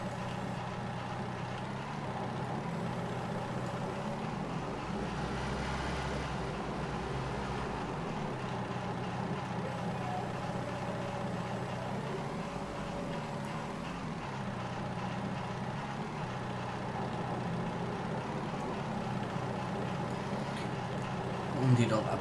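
A Tatra truck engine driving in Farming Simulator 19, a steady low rumbling engine drone with slight swells in load, running continuously beneath someone talking.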